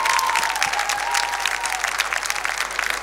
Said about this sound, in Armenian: ես կուզենամ մեծ սիրով ծափարենք